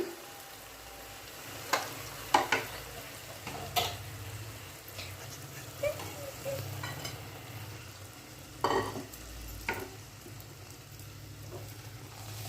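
Bottle gourd cooked with poppy seed sizzles softly in a pan while a spatula stirs it, adding scattered close knocks and scrapes over a low steady hiss, with no voices.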